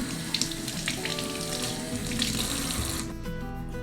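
Tap water runs steadily into a sink, splashing as radish sprouts are rinsed under the stream, then the flow shifts near the end.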